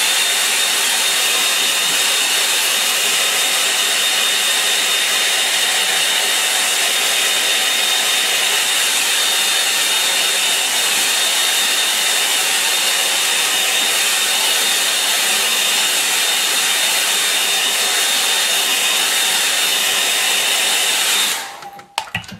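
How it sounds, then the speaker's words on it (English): A hair dryer blowing on wet watercolour paint, a loud, steady, high-pitched rushing whine held for about twenty seconds before it switches off, with no talking. "I'm going to dry this now because I don't want it to bleed too much into the surrounding wet paint."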